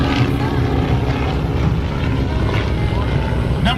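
Several Stearman biplanes flying in an air show demonstration at the Blue Angels Homecoming, a steady droning propeller-engine roar holding constant and fairly loud over crowd noise and faint voices.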